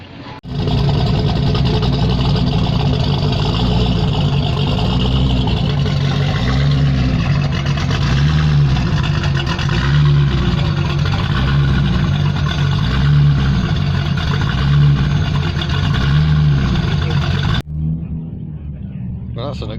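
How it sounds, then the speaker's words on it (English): A Nissan R32 Skyline fitted with a large-turbo V8 engine idles loudly and steadily, its deep rumble pulsing gently in a low rhythm with close, sustained engine noise until it suddenly cuts out near the end. "It's an R32 Skyline, but it has a VQ35 V8 engine"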